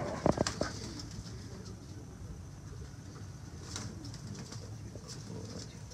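A Teddy pigeon coos with a few sharp sounds near the start, then softer intermittent calls over low background noise.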